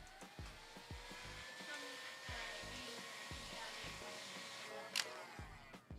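A heat gun blows with a steady, whining electric roar while shrinking heat shrink tubing onto an audio cable near a locking collar, close and continuous, with faint clicks and handling noises over it.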